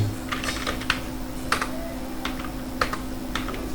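Steady keystrokes on a computer keyboard while writing Laravel code: a run of close, crisp taps with a few louder strikes over a constant low electrical hum, with no talking.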